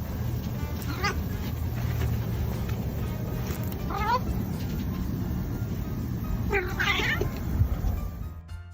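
A cat meows several times over a steady background hum, with short separate meows spaced a few seconds apart, close and fairly clear, and no talk.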